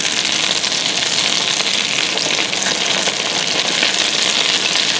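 Thinned batter fries in a ceramic frying pan, giving a steady, close, loud sizzle that carries on without a break and with no voices over it.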